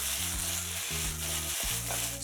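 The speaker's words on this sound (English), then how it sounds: "Let your potatoes fry for about a minute or two, then give them a good stir" Potatoes pan-frying in oil for Russian-style fried potatoes, giving a steady, close sizzle with a low hum running underneath throughout.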